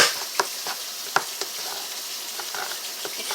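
Tap water runs steadily for rinsing canned corn, a broad hissy wash with a few sharp clinks and splashes scattered through it, close and moderately loud with no talking.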